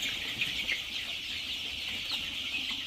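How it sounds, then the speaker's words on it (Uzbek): A crowd of young black chicks of a heavy-laying breed cheeps continuously in a high, dense chorus, close and steady, with no voices. "Mana jo'jalar."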